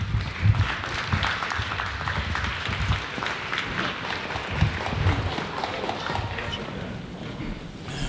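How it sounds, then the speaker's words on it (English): A crowd applauds steadily for several seconds, a dense patter of clapping with scattered voices mixed in. "So round of applause for all of you."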